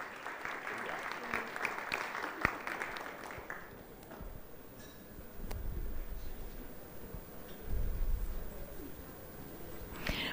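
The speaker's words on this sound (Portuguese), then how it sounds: "Uma salva de palmas a Michele" Audience applause for a book-raffle winner at a debate event rattles for about four seconds, then thins into quieter room noise with scattered taps and a few later swells.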